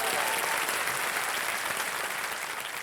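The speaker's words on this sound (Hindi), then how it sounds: "बहुत बहुत स्वागत, तालियां बज जाएं इनके लिए।" Studio audience applauding on the Hindi-language quiz show Kaun Banega Crorepati, season 14, a dense, steady wash of clapping from a large crowd that holds near and loud for the whole stretch, easing only slightly at the end.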